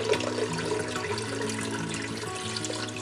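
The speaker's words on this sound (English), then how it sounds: "I just want the water to cover the chicken for now" Tap water runs and pours into a pot of chicken for homemade chicken noodle soup, a steady close splashing stream with a low ringing resonance from the filling pot.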